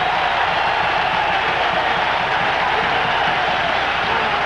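A football crowd on its feet at Beaver Stadium during a 1982 Penn State versus Nebraska game, a broad, steady roar of cheering that fills the air evenly without letup.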